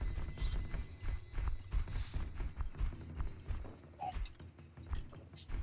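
Horse hooves clip-clop in a multiplayer online video game as a character mounts and rides, a steady rhythmic trot of close, moderately loud hoofbeats over a busy game soundscape with low rumbling.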